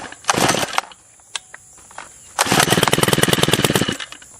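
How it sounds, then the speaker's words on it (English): Small two-stroke engine on a string trimmer cutting low limbs near a hay barn: a short rev burst, a pause with a faint blip, then a longer loud buzzing rev with a rapid pulsing rasp, close by. "So we'll see how the string trimmer does."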